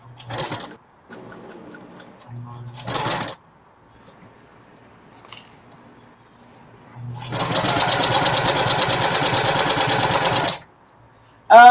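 A sewing machine top stitches a bucket hat, with a few short bursts of stitching followed by a long, steady, rapid run, all close and clear.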